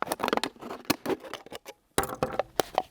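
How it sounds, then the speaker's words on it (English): Scissors snip around a plastic bottle after it has been nicked with a small serrated knife, giving a series of close, sharp crunching cuts with short gaps between them. "then I can get in there with my scissors to cut all the way round"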